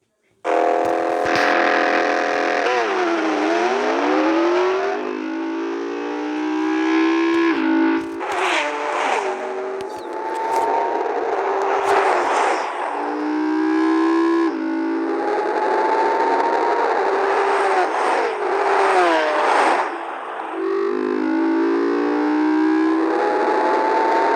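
A 6.5-liter V12 Lamborghini Aventador races a McLaren down a quarter-mile drag strip, engines roaring loud and continuous with rising and falling gear-change sweeps across the run.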